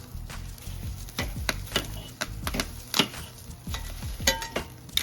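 Corn sizzles on a hickory-fired barbecue grill, with busy crackling and a run of sharp clicks and taps, some loud and close, in an uneven rhythm.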